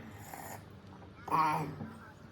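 A person snoring while asleep during a sleepover at home, with rough breathy snores rising to one louder, harsher snort near the middle, fairly close and moderately quiet.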